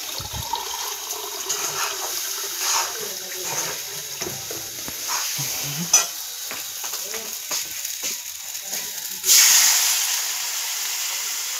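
Food fries in a hot pan with a moderate hiss and occasional scraping. Near the end, water hits the pan and sets off a sudden, loud burst of sizzling that keeps going strongly.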